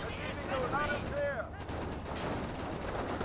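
Gunfire in a Company of Heroes 1 battle as Panzer Grenadiers hold the line against US forces, a dense stream of shots and rattling bursts running throughout under busy battlefield noise, with a brief voice-like tone near the start.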